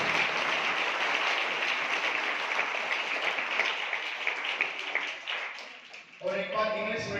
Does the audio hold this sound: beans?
no